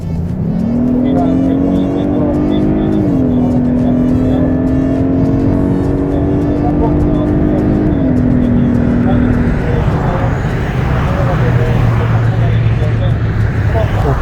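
A Hyundai Sonata N Line sedan engine revs hard under acceleration in normal mode, its droning pitch climbing in steps through gear changes, loud and continuous, with a voice speaking over it.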